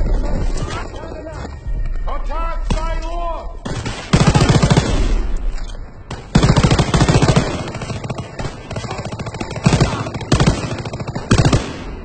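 Rapid bursts of MP40 submachine gun fire in the World War II shooter Call of Duty on PC, loud and close, repeating in short volleys among other battlefield gunfire.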